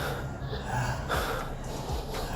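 Heavy, rough breathing with gasps and snorts from someone worn out near the end of a set of 100 burpees, close to the mic and continuous, with no talk.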